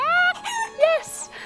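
A person vocally imitating a chicken during a children's yoga session, giving a short series of rising clucking squawks that sound loud and close.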